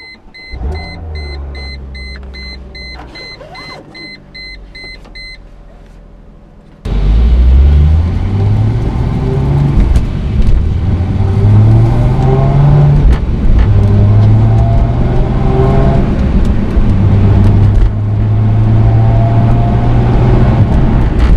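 A 2005 Chrysler Crossfire with a V6 engine cranks and catches, then settles into a loud steady rumble that rises and falls through several gear changes as the car pulls away and drives, with no one talking over it.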